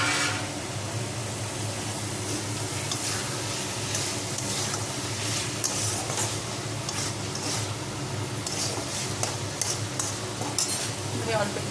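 Eggs sizzle and fry in a pan with potatoes while a utensil stirs and scrapes steadily, a continuous close frying hiss with occasional metallic clinks and no talking.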